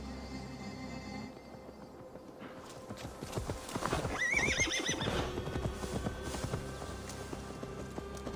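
A horse in the Assassin's Creed Valhalla video game gives a loud whinny midway, surrounded by steady clip-clopping hooves that keep up a rhythmic run throughout, over a low in-game ambient bed.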